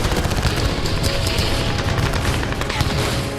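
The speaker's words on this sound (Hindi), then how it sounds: "उसके बाद रूस ने यूएसवी पर फायरिंग शुरू कर दी" Dense, continuous gunfire from Russian forces firing at Ukrainian sea drones on the Black Sea: rapid overlapping shots and bursts crackle loudly throughout, with no talking.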